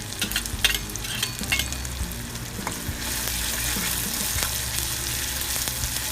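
Green chili frying for vermicelli upma makes a continuous close sizzle, with bursts of spatula scraping and stirring clatter early on that settle into an even hiss.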